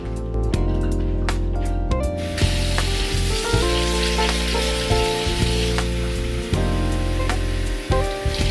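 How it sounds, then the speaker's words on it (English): Hot water pouring into a mug to pre-warm it, a steady close hiss and splash with a few soft knocks, over faint tonal background music. "I'm going to fill it up with some hot water before I pour my espresso in"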